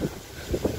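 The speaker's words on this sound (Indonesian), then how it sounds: "Anginnya sangat kencang." Strong wind buffets an outdoor microphone at a hillside resort in Trawas, a low roaring rumble that swells in gusts, loud and close with no voices.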